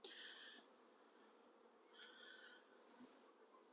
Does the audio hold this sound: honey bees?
yes